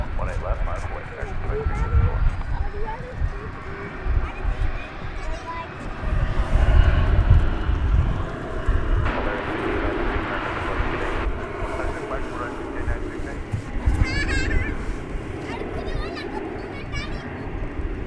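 An American Airlines Boeing 737-800 takes off, a broad, sustained jet roar swelling and holding at a distance at a busy airport, with someone talking over it much of the time.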